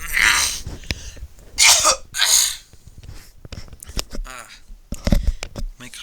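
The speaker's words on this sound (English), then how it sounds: "My cough's doing things right now, so it may interrupt some more" Several short, harsh coughs burst out close by in irregular bursts, with breathing and throat sounds between them.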